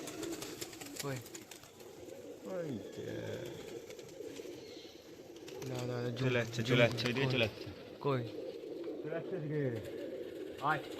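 Pigeons released from a rooftop with a bus arriving nearby, giving soft coos and wing flaps amid steady outdoor noise, under near-continuous talk.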